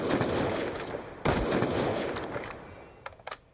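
Gunfire in Call of Duty Black Ops 2 during a Ballista sniper match: sharp bursts and single shots, one heavy crack midway and a few quick pops at the end, over steady game ambience.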